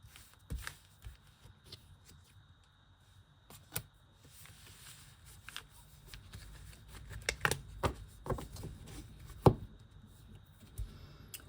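Tarot cards being shuffled during a card reading, with soft riffling and sharp clicks and taps scattered through a quiet stretch, close by and with no talking.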